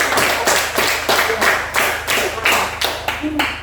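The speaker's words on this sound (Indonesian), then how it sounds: "Kita tepuk tangan dulu." A classroom of students claps hands together in rhythmic bursts, about seven or eight loud, evenly spaced rounds of clapping close to the listener, with no talk over it.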